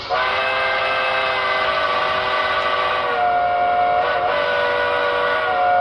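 A steady, multi-toned steam whistle from a brass hybrid New Haven I-4 model locomotive sounds continuously, shifting pitch slightly partway through, loud and close with no talking.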